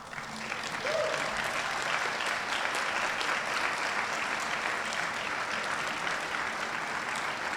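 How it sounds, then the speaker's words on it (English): A large crowd at the 2017 Westminster commencement ceremony gives a warm, sustained round of applause. Dense clapping fills the hall at a steady, even loudness from start to finish, with no speech over it. "please stand and take a moment to give a warm round of applause for those gathered here today"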